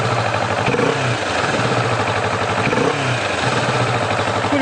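A new 2015 Kawasaki Vulcan S ABS motorcycle engine idles steadily with a low, even rumble through a quiet exhaust and a faint mechanical clatter, rising briefly at moments, close by.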